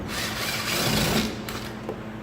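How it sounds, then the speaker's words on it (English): A power driver whirs steadily while backing screws out of a car door panel during window tint installation, a close continuous buzzing motor hum lasting about two seconds. "Now I'm going to go ahead and I'm going to remove these screws."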